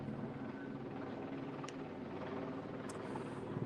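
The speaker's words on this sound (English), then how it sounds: "there's a helicopter, police helicopter, that's been flying above me." A police helicopter flies overhead outside the Oscars, its rotor noise a low continuous rumble heard from a distance, with faint city sounds mixed in.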